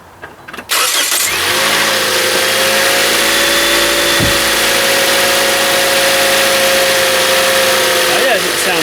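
A 2013 Toyota Corolla engine turns over and fires up abruptly, then settles into a steady, droning idle that continues close and loud.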